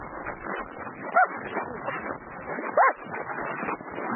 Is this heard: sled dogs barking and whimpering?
yes